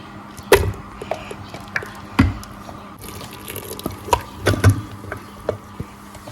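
Hot vegetable cooking water is strained into a pot of assorted meat light soup, with scattered splashes, drips and clinks of a strainer against cookware in a quiet kitchen.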